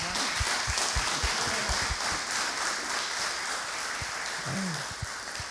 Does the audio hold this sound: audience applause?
yes